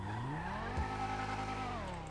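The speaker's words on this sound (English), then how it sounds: "you should be able to hear the shift, which again I'll show you right now" A car engine in GTA 5 revs high, then drops sharply to low revs as the gear shifts before climbing again, a steady close synthetic engine drone with faint tyre noise.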